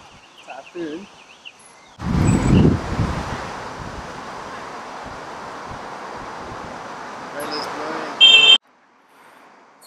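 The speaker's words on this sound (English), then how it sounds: "So windy still." Strong typhoon wind in Shanghai roars and buffets against the microphone for several seconds, a steady rushing noise that cuts off abruptly.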